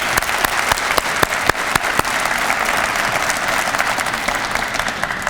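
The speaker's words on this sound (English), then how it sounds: "Let's give them a round of applause." Applause fills a college alumni awards ceremony, a crowd clapping loudly and steadily with a few sharp individual claps standing out, no voices on top.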